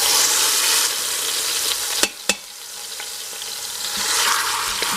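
Pork loin sears in a hot pan with a loud, continuous close sizzle, broken by two sharp clacks of the meat being turned before the hissing swells again.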